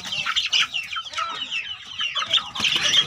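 Free-range village chickens cluck and squawk continuously during an egg harvest, several birds close by in a busy, overlapping chorus of short calls.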